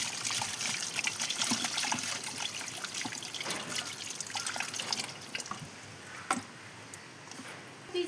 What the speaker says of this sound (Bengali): চাল তো ওগুলো ভালো করে ধুয়ে নেবো ওখানে